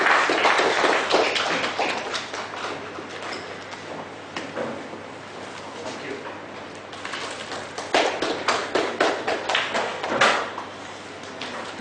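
A crowd of audience members gives a round of applause as a speaker is escorted onto the dais at a labour-law and statutory-compliance talk, steady dense clapping through most of the stretch, with sharper bursts near the end.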